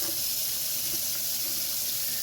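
Water runs steadily from a kitchen sink tap, a close, even hiss and splash that doesn't change for its whole short length.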